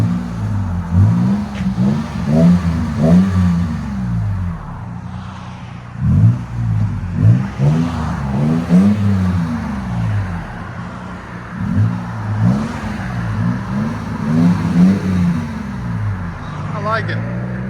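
A 2013 Toyota Tacoma with a 4.0L V6 and an 18-inch Magnaflow exhaust revs repeatedly with a deep, throaty rumble, loud and close. Burst after burst rises and falls while people talk over it.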